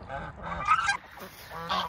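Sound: goose honking on her nest

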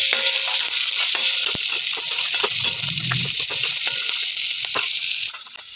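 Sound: onions and chillies frying in a pan

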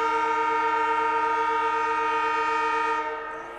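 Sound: stadium siren

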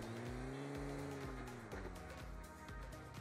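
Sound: car driving in video game PUBG Mobile

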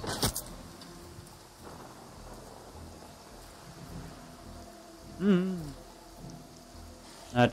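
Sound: rain in Far Cry 6, video game

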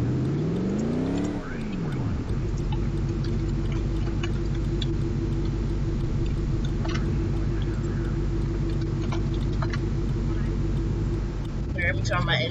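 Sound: car engine running

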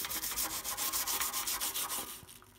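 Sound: scrubbing grime off an air compressor with a brush

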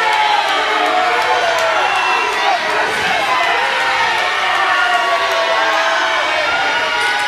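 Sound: wrestling crowd cheering

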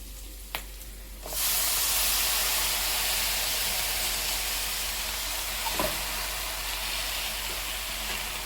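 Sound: hadga flowers being stir-fried in pan

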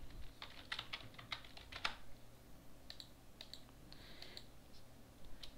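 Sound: typing a username on a computer keyboard

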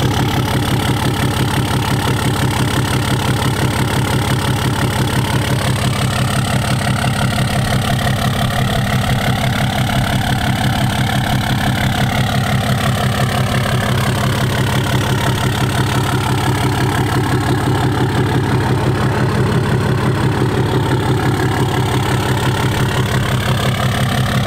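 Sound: Cummins 6-speed truck engine idling with new exhaust tip

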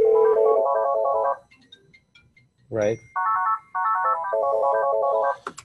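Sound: cell phone ringing from call routed via Twilio

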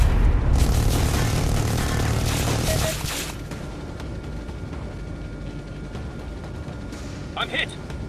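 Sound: explosions of destroyed targets in Air Corp VR video game

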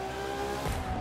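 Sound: car braking hard in video game The Crew 2

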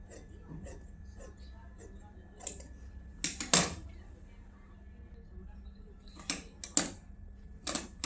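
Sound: scissors cutting a saree along a straight line

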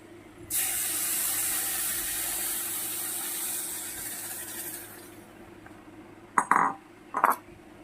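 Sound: milk poured into a hot pan of ghee-fried dalia

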